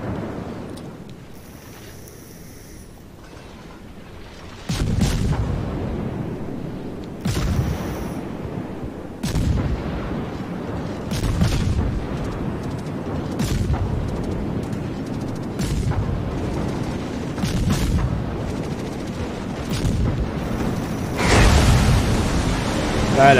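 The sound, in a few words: naval gunfire in World of Warships video game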